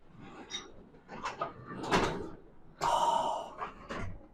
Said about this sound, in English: Brant's going to open up the big door